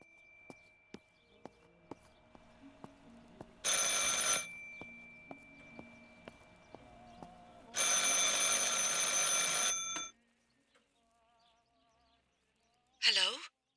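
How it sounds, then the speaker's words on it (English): An old-style telephone in the video game Martha Is Dead rings in two long, loud bursts of bright bell trilling, separated by quiet stretches with faint ticks and low ambience, then a short rising tone at the end. "I should pick up the phone but remain silent."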